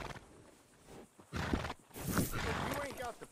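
Horse in Red Dead Redemption 2 snorting and whinnying in short bursts with a few hoof clops, heard close alongside someone speaking.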